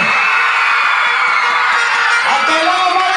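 San Agustin supporters at a championship basketball game crowd-cheer loudly, whoops and yells blending into a continuous roar with some clapping, close and sustained throughout.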